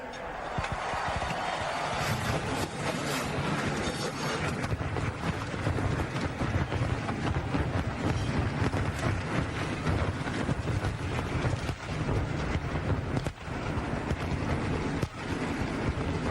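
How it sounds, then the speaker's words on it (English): Stock car engines start together at Daytona International Speedway and roar as a dense, continuous loud rumble across a crowded racetrack, under a commentator's voice. "The engines are started, and we're about to get underway with another great event at Daytona International Speedway."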